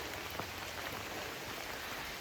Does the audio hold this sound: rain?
yes